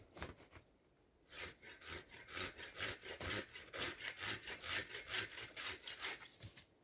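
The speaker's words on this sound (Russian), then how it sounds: "А это как раз лучше ее пилой." A hand saw cuts through a tree branch in brisk, rhythmic back-and-forth strokes after a brief pause. The rasping pushes and pulls are close and clear, with no talking.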